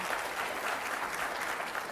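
Dense applause from a sizeable crowd, a steady wash of many hands clapping at once, fairly distant and even throughout.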